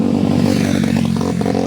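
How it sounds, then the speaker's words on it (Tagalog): A motorcycle engine runs close by, a loud, steady, throbbing rumble with faint rattling over the short stretch. "Astig naman to yung motor na to."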